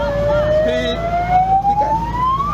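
A fire engine siren wails with a single rising tone, approaching over steady road traffic noise, with people talking faintly in the background.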